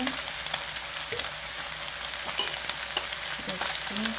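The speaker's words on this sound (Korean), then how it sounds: "그 다음에 간장 한 3숟갈 넣을 거예요. 이렇게 넣어주시고" Chicken wings stir-fry as soy sauce hits the hot pan, a dense close sizzle with spitting crackles and spoon-scraping clicks scattered throughout, no talking.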